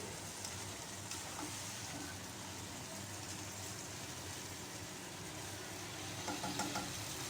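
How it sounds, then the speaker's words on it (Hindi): Meat with masala sizzling and being stirred in a pan while making bhuna gosht, a steady broad frying hiss throughout with occasional faint scrapes, a little louder near the end. "और अब मैं इसके अंदर ये सारा मसाला ऐड कर दूँगी और इसको भून लेंगे।"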